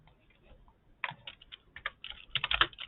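Close, quiet keyboard typing in short irregular bursts, starting soft and growing busier and louder toward the end, with no voices.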